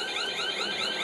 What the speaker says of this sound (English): What is that, your alarm? Is that your alarm?